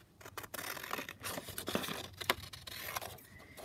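Scissors cutting down a paper scrap, a few close, quiet snips and rustles with short crisp bursts of paper noise, no talking.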